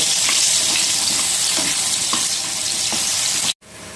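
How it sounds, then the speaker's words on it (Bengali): Potato pieces frying in oil in a pan for a Bengali rui fish curry with potato and eggplant, giving a steady, loud, close sizzle with faint stirring clicks that cuts off abruptly near the end. "আর আলুগুলো সেম প্রসেসে এবার ভালো করে ভেজে নেব।"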